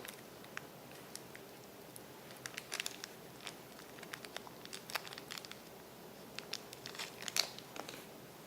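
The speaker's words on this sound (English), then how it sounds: "Let me just open this up. It's like a small zip bag." A small zippered carrying pouch for a LaserWorks Pro X7 rangefinder is handled and opened, giving light crinkling, rustling and scattered sharp clicks and scrapes, close and fairly quiet, with no talking.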